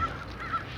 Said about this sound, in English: Oh, the crows are after it.